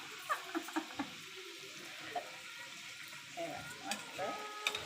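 Food shallow frying in oil in a pan, a low crackling sizzle with intermittent clinks and scrapes of a utensil, and a few faint voices in the background.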